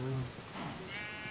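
Sheep bleating in a farming video game, a few short wavering bleats up front and then a higher one later, fairly close, over a soft background hum with faint talk.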